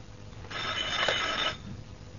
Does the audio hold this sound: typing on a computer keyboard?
no